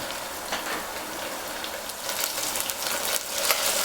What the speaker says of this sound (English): Mix it in well and just saute it until you start to smell the garlic and ginger caramelizing